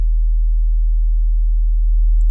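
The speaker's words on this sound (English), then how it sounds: "Okay, and this is our test oscillator." A Logic test oscillator produces a pure, very low 40 Hz sine tone, a steady, loud, unbroken hum that holds for the whole stretch with a faint tick at the end.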